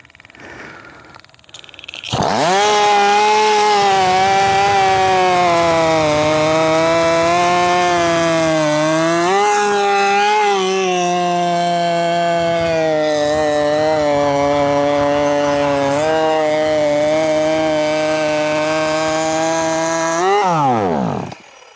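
A supercharged Poulan 4620 chainsaw with a blower fitted runs lean at high revs for about twenty seconds, a loud, steady buzzing whine that starts abruptly, wavers slightly in pitch, then cuts off.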